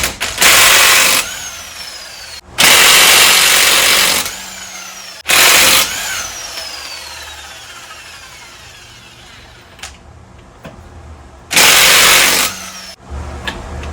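A Harbor Freight Bauer heavy-duty 1/2-inch impact wrench removes car lug nuts in four loud, harsh bursts of about one to two seconds each, separated by quieter pauses.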